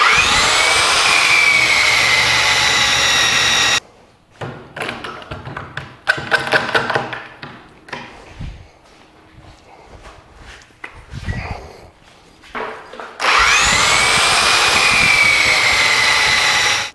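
A power sander works a wooden piece clamped down with quick grips on a saw table build, giving a loud, steady whirring drone at the start and end, with quieter taps and knocks in the pause between.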